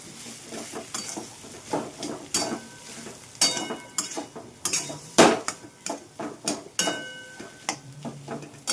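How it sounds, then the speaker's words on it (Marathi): Spoon clinking and scraping against a pan as a potato filling is mixed with turmeric, red chili powder, salt and coriander powder, in irregular sharp knocks and scrapes close by, without talk. "लाल तिखट मीठ चवीसाठी त्यासोबतच धने पावडर व्यवस्थित मिक्स करून घेणार"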